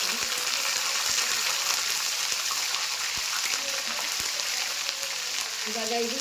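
Green chillies and curry leaves spluttering in hot oil: a steady, close sizzling hiss with scattered sharp pops, and a brief voice near the end.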